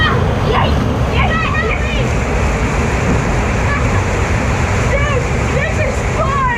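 Rushing waterfall roars loud and steady throughout, with splashing and people shouting and talking over it.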